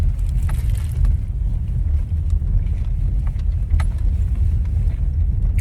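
Car driving along, a steady loud low rumble of engine and road noise from inside the vehicle, with faint light clicks and rattles over it.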